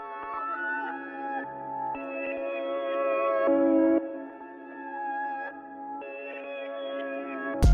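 A dark piano melody played in reverse, with wobble, 3D reverb and distortion, gives sustained swelling notes that shift in blocks over a steady pad, moderately loud and alone.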